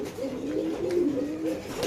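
Pigeons at a pigeon farm give a low, steady cooing close by, one continuous rolling call with no talk.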